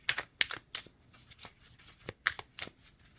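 Tarot cards are shuffled and drawn in a pick-a-deck reading, producing quick, close riffles and crisp snaps in an uneven rhythm with no voice over them.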